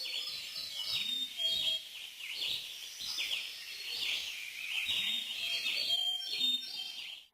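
Birds in the video game A Bird Story chirp and tweet continuously in a bright, busy chorus, with low voices murmuring faintly underneath.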